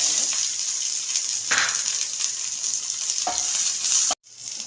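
Garlic and shallots fry in hot oil, a loud continuous sizzle with a few louder stirring scrapes, cutting off abruptly near the end.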